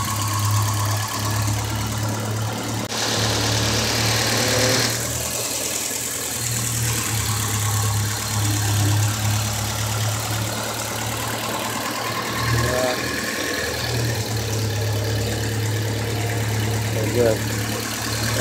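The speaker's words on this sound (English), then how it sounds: "check it out, the engine working and how it looks like. Pretty small engine, just" A small 2.0-liter car engine idling, a steady close-up hum and rumble holding an even level throughout with faint mechanical clatter and no speech.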